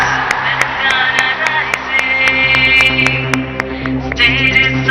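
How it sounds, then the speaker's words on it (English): Loud audience applause and cheering at the Telangana Rising Global Summit, dense clapping with whoops sustained throughout, music playing underneath. "Let's give them a big round of applause, guys."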